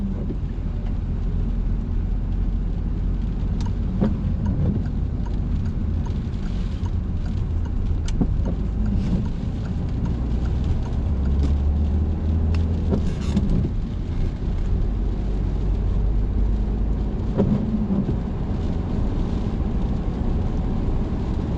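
Car on a driving-lesson drive along a merging lane, a continuous low engine and road rumble with wind buffeting the microphone and a few faint knocks, steady and fairly loud throughout, no talk.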